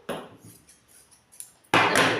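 Blouse fabric is tapped and pounded to make a mark, with a few light knocks followed by a louder, sharper pair of thumps close by.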